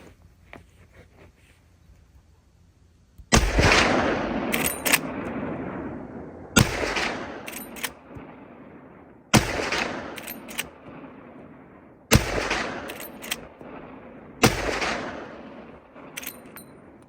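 Five loud gunshots from a Henry 45-70 lever action rifle firing 325 grain loads, spaced a few seconds apart outdoors, each a sharp crack with a booming tail, plus faint clicks of the lever cycling between shots.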